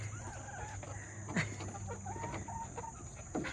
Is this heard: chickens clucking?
yes